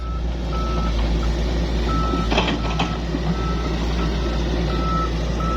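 An XCMG excavator digging a new pond, its engine droning steadily nearby while a reversing alarm beeps at regular intervals, with a couple of brief metallic clanks in the middle.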